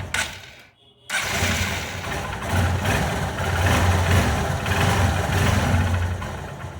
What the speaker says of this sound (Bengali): এখন খেয়াল করবেন আমাদের ইঞ্জিনের সাউন্ডটা একদম যেরকম ব্র্যান্ড নিউ ছিল